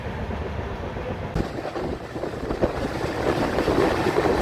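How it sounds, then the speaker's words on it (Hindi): Danapur-Pune Superfast Express train pulling out of Maihar railway station, a continuous rumbling roll with rattling carriage noise that grows steadily louder and rougher toward the end. "हम लोग अभी डिपार्चर हुए हैं मैहर रेलवे स्टेशन से"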